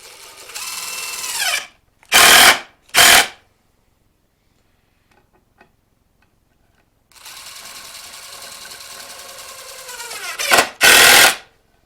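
A power drill whirs as it drives screws into wood for temporary stairs, two bursts with sharp revving spurts, a pause of near silence, then another long run.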